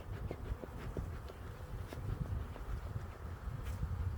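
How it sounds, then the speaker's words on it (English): Young nurse bees crowd inside a hive split, giving off a low, continuous buzzing hum with faint passing flickers of wingbeats, quiet and close throughout. "there's lots of little bees in here, I'll tell you that. These are young nurse bees."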